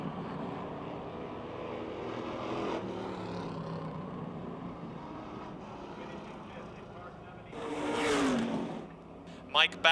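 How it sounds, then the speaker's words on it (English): Oval-track race cars at Motordrome Speedway pull away at the green flag, a steady engine drone under continuous commentary, swelling into a loud nearby pass near the end. "Mike Bacalon starting last in car 60 as the green flag waves"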